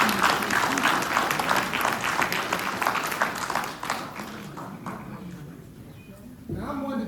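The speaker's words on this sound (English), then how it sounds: "let's give her a huge round of applause" Sustained audience applause at a 2025 ROTC Hall of Fame ceremony: dense, loud clapping that slowly thins, with a voice coming in near the end.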